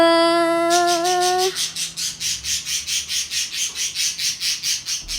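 Birds in a modded video game squawk in a steady, evenly spaced series of loud, shrill calls after a brief electronic tone, repeating about twenty times close up.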